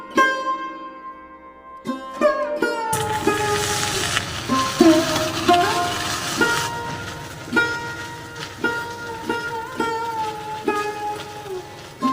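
Vegetables hit hot mustard oil spiced with panch phoron, green chilli and chopped ginger in a pan, setting off a sudden sustained sizzle with rhythmic spatula scrapes and clatter, under background music.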